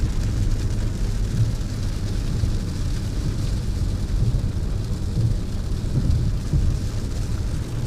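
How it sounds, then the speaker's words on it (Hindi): Heavy rain roars steadily on a vehicle driving the highway through Sukkur, Sindh, a dense continuous wash of water and road noise with low engine rumble and no clear speech. "मेरे ख्याल में सक्कर को तो बारिश ने सही लपेटा हुआ है।"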